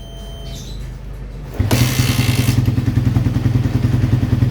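A Honda CB150R motorcycle starts up during a charging-system check. A quiet background hum is broken by the starter kick, and the engine catches at once and settles into a loud, steady, rhythmic idle close by.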